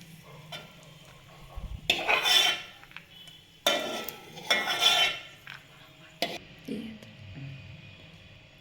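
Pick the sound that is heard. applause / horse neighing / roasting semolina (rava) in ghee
roasting semolina (rava) in ghee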